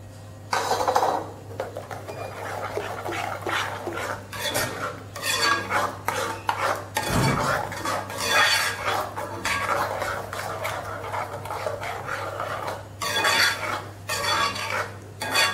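A spoon stirs chili powder, garam masala and cumin powder into paneer butter masala in a pan, giving steady scraping and clinking strokes against the metal throughout, close and moderately loud with no talking.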